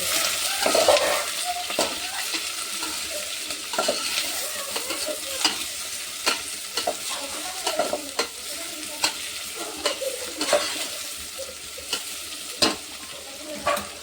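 Sliced onions and green chilies fry in hot oil for a chicken dish, sizzling steadily while a utensil scrapes and stirs the pan in regular close strokes, with no talking.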